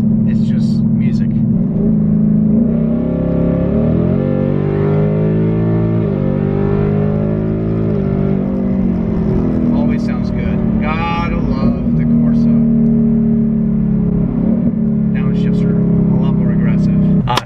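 A 2022 Ford Mustang GT with a Corsa exhaust pulls hard under acceleration, its deep, loud engine and exhaust drone rising and falling over several seconds, close to the listener, with people talking over it.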